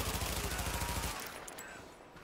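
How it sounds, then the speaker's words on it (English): Enemy gunfire in The Division, a rapid burst of loud automatic shots for about a second that then breaks off, leaving quieter game ambience behind. "He ain't friendly, he shot at me."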